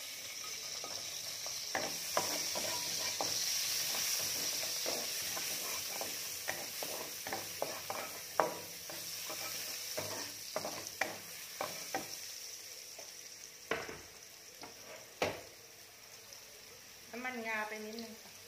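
Carrots stir-fry in a hot pan with a continuous sizzle, punctuated by repeated scraping and clacking strokes of a utensil, while someone talks intermittently over the cooking.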